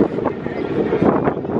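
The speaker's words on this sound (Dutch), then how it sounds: "Zo, wat een klote wind." Strong outdoor wind buffeting a microphone, a steady low roar with gusty surges throughout the short stretch and no talk over it.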